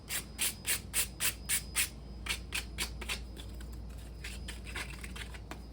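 Hand sanding of Codex Quest book assembly pieces, quick rhythmic scratchy rubbing strokes, a burst of about six strong strokes followed by lighter, faster scrubbing, close up.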